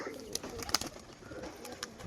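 A male and female pair of white and chocolate Rajshahi pigeons coo softly, faint and low against background noise, with a few scattered sharp clicks.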